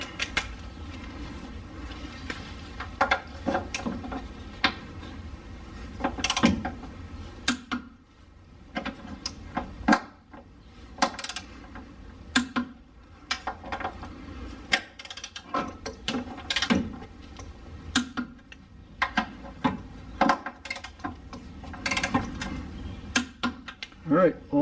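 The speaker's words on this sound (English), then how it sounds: "Alright, torque wrench. Let's get these set." Torque wrench and ratchet tightening front suspension bolts on an R32 Skyline GTR, with irregular close clicks and metallic clunks in short bursts separated by pauses, and someone speaking at times.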